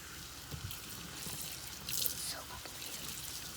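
Kitchen tap water runs steadily while handmade activated charcoal soap is lathered, a soft continuous hiss with small drips and splashes and a brief louder gush near the middle.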